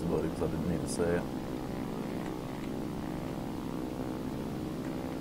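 The propeller engine of a plane in the War Thunder flight game drones as a steady, even hum under someone talking, with a few brief higher sounds near the start.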